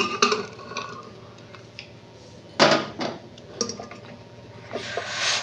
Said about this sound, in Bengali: আমি প্রেশার কুকারটা এই টিফিনের ঢাকনাটা খুলছি